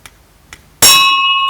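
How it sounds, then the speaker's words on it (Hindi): A spinning weight on a centrifugal force demonstration rig strikes a small metal bell once, giving a sharp clang that rings on with a clear sustained tone after two faint whooshes of the passing weight. "यह इस घंटी को छू जाता"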